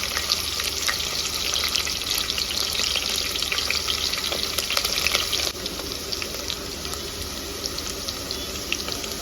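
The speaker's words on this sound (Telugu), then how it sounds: "ఆనియన్స్ వేసుకోవాలి ఆయిల్ వేగిన తర్వాత" Sliced onions fry in oil inside a pressure cooker with a steady, dense sizzle and crackle. The sizzle drops slightly in level partway through, and no one speaks.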